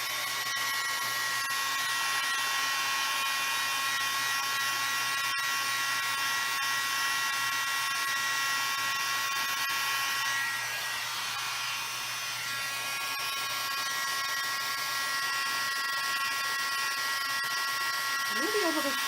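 Steady, close whirring blow of an electric heat tool drying glitter on a craft project, running continuously with a slight shift in pitch midway and no talking.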